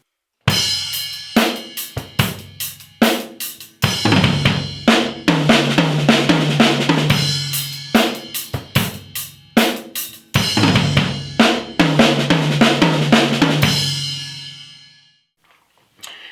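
A drum kit plays fills using RLLRLLRL sticking across snare and tom, with crisp, rapid strokes and cymbal wash in bursts separated by short pauses, loud and close, ending with a ringing decay.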